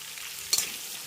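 A short scrape of a utensil stirring potatoes, carrots and pumpkin in a pan, with a steady faint sizzle of frying underneath.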